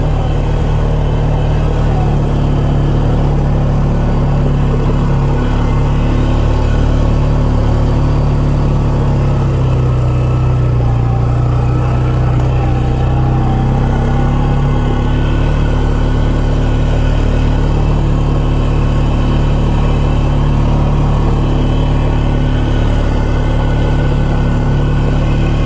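A 4x4 vehicle in four-wheel low crawls uphill off-road on a forest trail, its engine a steady loud low drone with slight dips in pitch, no voices.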